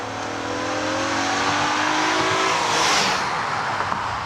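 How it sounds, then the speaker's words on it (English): A 2014 Acura RDX engine revs hard under acceleration with a rising, shrieking tone, loud and close, no voices. "this drivetrain practically shrieks like a Formula One car when you open it up"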